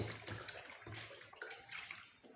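Tie-dyed fabric rinsed in water, a close splashing and sloshing with soft gurgles as the cloth is moved through the water in a brief, continuous burst.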